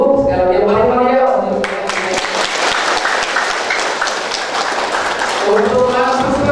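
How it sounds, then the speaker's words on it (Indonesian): An audience at an academic general lecture breaks into loud, sustained applause for several seconds, with speech before and after the clapping. "Untuk selanjutnya kita tepuk tangan dulu sekali lagi mari ya"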